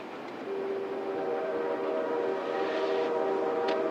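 A train horn sounds in Pluribus, a steady sustained tone held from about half a second to the end, with a faint brief whistle-like accent near the close, heard over a low rumbling background.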